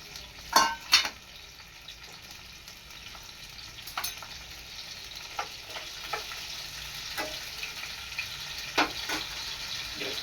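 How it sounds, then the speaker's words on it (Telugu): A soft, steady sizzle comes from a pan where garlic cloves, turmeric and tomatoes for a tomato chutney fry, broken by a few sharp clinks and scrapes of stirring. No one speaks. "లైట్గా ఫ్రై అయ్యేంత వరకు లైట్గా వేయించుకోవాలన్నమాట"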